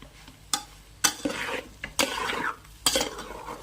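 Spiced eggs stirred in a pan with a utensil for egg uggani, four sharp scraping clinks at roughly one-second intervals, each followed by a softer rustling scrape, close and clear with no talking.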